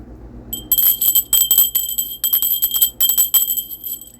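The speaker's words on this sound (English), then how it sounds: "I'm going to go ahead and ring my bell" Small handheld bell rung to cleanse energy, bright clear ringing in quick repeated strokes with short gaps between bursts, close and alone with no voice over it.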